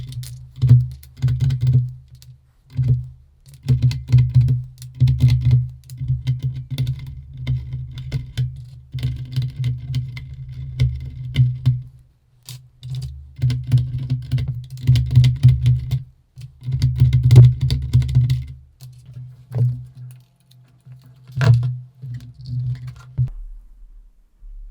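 Steady typing on a Tex Shinobi ThinkPad-style mechanical keyboard with pink switches, a continuous patter of soft, fairly muted keystrokes with brief pauses, heard close up.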